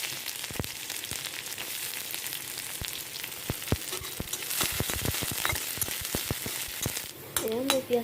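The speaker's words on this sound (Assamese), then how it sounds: "এয়া মোৰ পিঁয়াজ ভাজা হৈ গ'ল।" Chopped onions fry in a pan with panch phoron and dried red chillies. The result is a soft, steady sizzle broken by frequent sharp crackles and pops, with a stirring scrape and brief faint voice-like sounds near the end.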